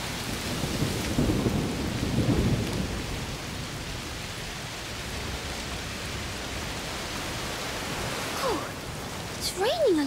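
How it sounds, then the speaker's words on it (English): A video-game thunderstorm in A Plague Tale Requiem: steady heavy rain hisses throughout with a low rumble of thunder early on, while faint sounds and a brief voice surface near the end. "Must be a heat storm."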